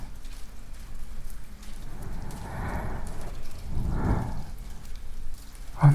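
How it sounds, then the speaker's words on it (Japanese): Steady rain falls on a surface in a quiet bedroom at night, a soft continuous hiss with a couple of gentle swells, close and intimate, with no talking. "同じ雨の音を聞きながら"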